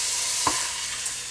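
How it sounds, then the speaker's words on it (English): Meat sizzles steadily in a hot pan, a dense crackling hiss up close with a faint clink partway through. "I got to talk over sizzling meat."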